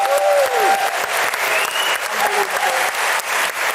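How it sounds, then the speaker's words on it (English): A live audience at a comedy and politics show applauds a guest, loud continuous clapping from a full room with a few faint voices and whoops mixed in. "should we just give him a round of applause?"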